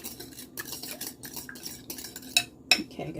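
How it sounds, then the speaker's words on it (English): Two large eggs beaten in a bowl with a utensil, a brisk run of close clinking and scraping strokes against the bowl with short pauses, ending in a couple of sharper metallic taps. "As you can see here, we're stirring up the egg."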